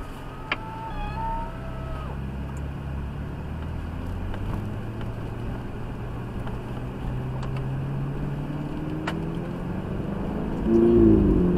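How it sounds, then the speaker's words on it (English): A Ferrari 488 engine hums at low revs from inside the cabin at Mallory Park, a steady smooth drone rising slowly in pitch before swelling louder at the end. "What this has got is the Ferrari sound."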